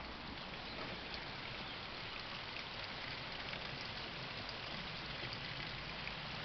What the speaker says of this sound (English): It's chucking it down with rain.